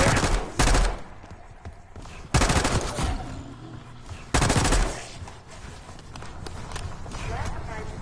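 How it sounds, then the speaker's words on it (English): Automatic gunfire in the Black Ops 6 video game comes in three loud bursts spread across the clip, with voices speaking in the quieter gaps between them. "You hearing gunfire?"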